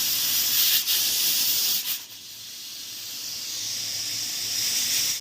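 A pressure cooker on a home stove lets out a close, steady hiss of escaping steam while banana flower boils inside, broken by two short dips before the hiss settles into a constant rush.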